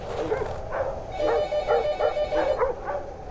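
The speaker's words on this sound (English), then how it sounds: "can you calm the dogs down?" Several dogs, pulling a sleigh in a snowy setting, yip and whimper in short repeated bursts close by, over a steady low rumble, with anxious whining running throughout.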